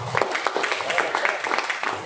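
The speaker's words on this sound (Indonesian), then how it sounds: "tepuk tangan buat kita semua" An audience at an agricultural talk on ancient farming methods claps in a brief, dense patter for about two seconds, moderately loud, with a voice audible beneath it.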